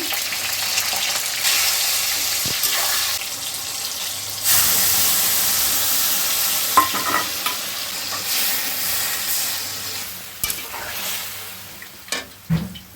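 Tomato hitting a pan of spiced onion paste, ginger, garlic and turmeric, loud close sizzling with repeated spatula stirring and clatters, swelling and easing as the mixture is turned.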